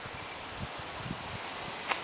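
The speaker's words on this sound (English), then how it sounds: "It's very windy here today." A gusty onshore breeze blows outdoors in Southern California, a steady broadband rush of wind with leaves rustling and a few soft bumps.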